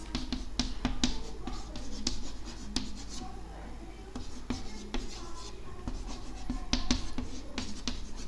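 Chalk or marker writing on a board during a chemistry class, a run of dry scratchy strokes and taps spread across the clip, with a teacher talking faintly over it.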